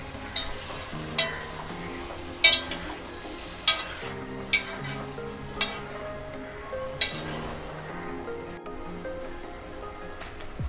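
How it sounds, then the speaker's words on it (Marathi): A spoon stirs raw chicken with yogurt and ginger-garlic paste in a bowl, giving soft wet squelching and scraping, with several sharper clicks of the spoon against the dish recurring every second or so, close up and steady. "आता हे सर्व आपल्याला चमच्याने एकजीव करून घ्यायचं आहे"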